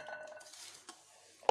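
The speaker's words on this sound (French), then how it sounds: "Je mélange bien." Utensil stirring orange zest and sugar into cut oranges in a bowl, from 1 kg of oranges and 400 g of sugar, gives faint scattered clinks and scrapes, then one louder knock at the end, with no talk.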